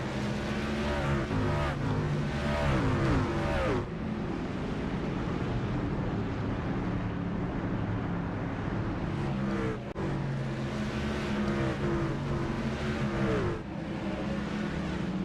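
Racing trucks from the Racers Elite Truck League lap the Stafford track, a steady, dense engine roar that holds throughout with brief dips as the pack passes.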